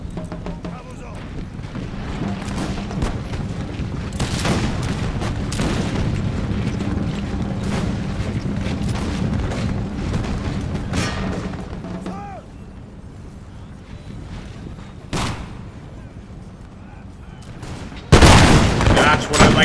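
Musket volleys crackle and boom across a battlefield in the Napoleonic-era strategy game Imperial Splendour, dense rolling gunfire with heavier blasts near the end, while someone talks over it.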